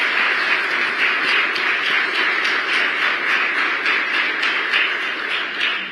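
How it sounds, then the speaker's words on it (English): Audience applause for Treasury Secretary Scott Bessent: dense, steady clapping and cheering that holds at an even, loud level throughout with no talk. "Can I get a round of applause for our Treasury Secretary?"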